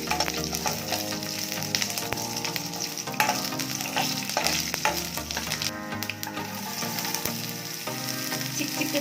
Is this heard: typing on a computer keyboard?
no